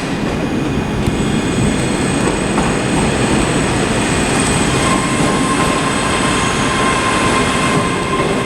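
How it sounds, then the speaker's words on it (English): ScotRail class 385 electric multiple unit arriving at Glasgow Queen Street station from Edinburgh, a steady loud rumble of rolling wheels and traction with faint squeal tones, continuous throughout without speech. "arriving now is a Terminating ScotRail service from Edinburgh, which is 385033"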